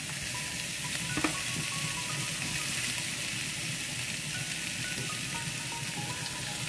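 Fish pieces fry in hot oil for a fish pulusu, giving a steady, dense sizzle with faint bubbling and crackle throughout, close up and with no talking.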